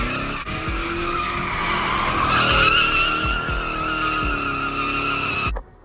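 Tires squeal loudly in a sustained skid while a rear-wheel-drive BMW wagon's engine roars underneath, ending abruptly after several seconds.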